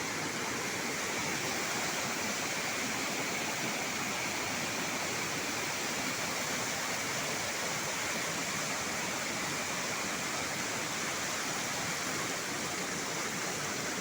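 Kawali Falls waterfall pouring in a steady, loud, broadband rush that never lets up, water crashing continuously with no voices over it.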